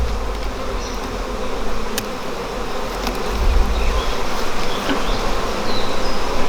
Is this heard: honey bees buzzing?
yes